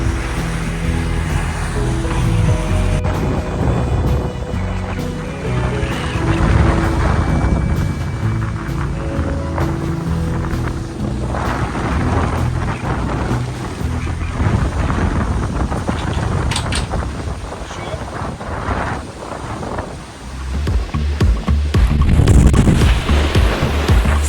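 Wind fills the sails of a Bavaria C50 sailing yacht in the Aegean Sea, producing gusty rushing and buffeting against the microphone along with creaks, knocks and water sloshing around the hull, all fairly close and loud.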